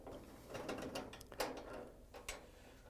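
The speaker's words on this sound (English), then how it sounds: "we're going to use a 5/16 nut driver to take out the screws" Screws being backed out of a dryer cabinet bracket with a 5/16 nut driver, giving a near, quiet run of small ratcheting, clicking metal turns with a few sharper ticks.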